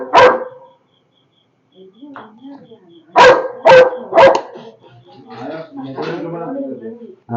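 A dog lets out several sharp barks, a single one and then a quick run of three, close by during a cobra capture at Nallurangadi, with people talking in between.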